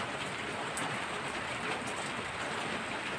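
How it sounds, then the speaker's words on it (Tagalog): Steady rain falls during a storm at the start of the new year, a dense, even hiss of drops on surfaces filling the whole stretch, fairly close and constant with no voices. "Tingnan ng kalangitan, ang dilim, umuulan."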